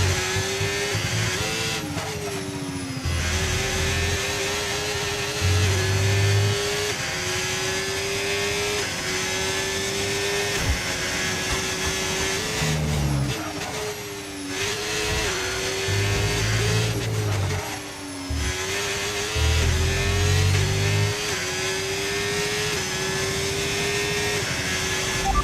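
Formula 1 racing cars in the F1 25 video game scream at high revs, the engine pitch climbing and dropping with repeated gear shifts for about 25 seconds, loud and steady with no talk.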